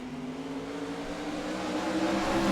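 Dirt track race cars roaring through a heat race at Limaland, a steady, loud engine drone with rising revs and a faint whine, no talking over it.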